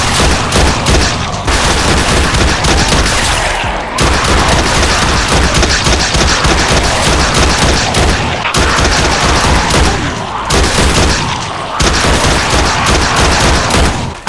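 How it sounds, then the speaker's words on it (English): Rapid, loud bursts of shotgun fire at zombies in Minecraft, repeated blasts in dense volleys separated by a few brief pauses. "I used a lot of shotgun ammo for this fight because I was alone."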